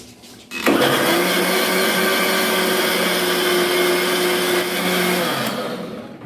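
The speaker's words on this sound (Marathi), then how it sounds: "मिक्सरला लावून घेते." An electric mixer grinder blends coconut, garlic, ginger, green chilli, coriander and water for kokum curry, switching on abruptly into a loud, steady whirring drone that holds for several seconds before easing at the end.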